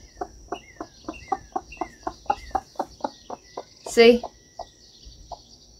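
A chicken clucks in a quick, even run of about a dozen soft, fairly close notes, then one louder squawk, while a person speaks briefly.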